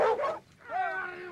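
Alano dogs give a quick close bark, then a short pause and a drawn-out whining yip that trails off.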